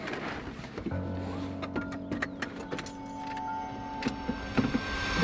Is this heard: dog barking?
no